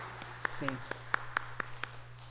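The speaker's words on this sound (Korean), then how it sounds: "우리 다시 한번 감사의 박수 치도록 하겠습니다." Applause from a church congregation after a hymn at a Wednesday service: a faint, steady run of evenly spaced claps with a low hum underneath and a brief voice partway through.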